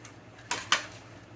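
Two sharp, bright clacks of melamine dinnerware plates being handled, close and distinct about a quarter second apart, with faint quieter knocks around them in an otherwise quiet room.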